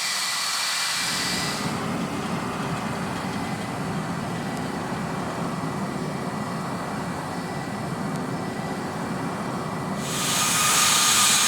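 A Saudia Flight 163 airliner rolls down the runway after landing, giving a loud, steady roar with broad hiss that holds throughout and swells slightly toward the end.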